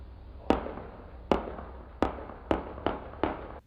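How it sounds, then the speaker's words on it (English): Six sharp, echoing gunshots ring out at uneven intervals in Hanover Park, Cape Town, each a loud crack with a short decaying tail over quiet street background. "This is the sound of gunshots being fired in Hanover Park"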